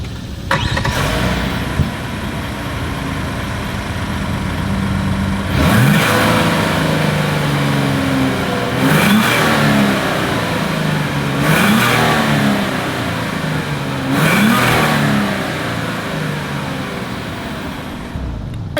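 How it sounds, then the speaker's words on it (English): A 2026 Hyundai Palisade SUV idles with a deep exhaust note, then revs up sharply four times, each rev rising and falling back to idle. "As always, here is that exhaust clip."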